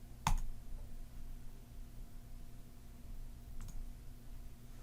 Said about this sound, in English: I will click the Save button in order to apply these changes